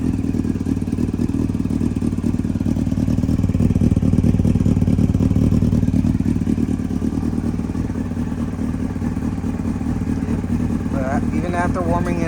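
A project motorcycle's engine runs steadily close by, a loud continuous chugging idle with some clatter, and a voice briefly talks over it near the end.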